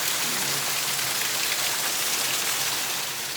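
Heavy rain pours steadily during a passing hurricane in Jamaica, a dense continuous hiss of downpour close by with no voices.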